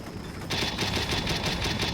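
Sustained burst of automatic gunfire in the Combat Mission war game during an amphibious invasion of Libya, a dense rapid rattle kicking in loudly after a short quieter lead-in and continuing steadily.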